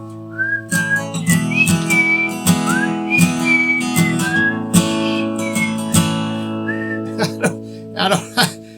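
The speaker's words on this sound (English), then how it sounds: "It's about really like almost a falsetto whistling." A high, thin whistled melody, several sustained notes with short slides between them, played over a strummed guitar.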